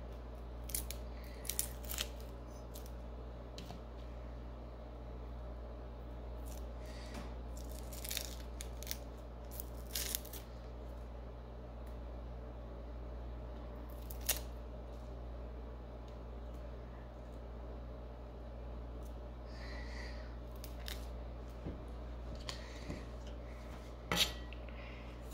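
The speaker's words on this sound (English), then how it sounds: "Just gonna peel it and then dice it up." A small onion being peeled and diced in a home kitchen, with soft papery tearing and a scattering of sharp knife taps on a cutting board over a steady low hum, close and fairly quiet.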